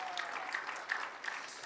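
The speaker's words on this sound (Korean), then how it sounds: "네, 박수 한번 보내시죠." A church congregation claps for the worship team leader, a steady, moderately quiet round of many hands with a few sharper claps standing out, heard from across the sanctuary.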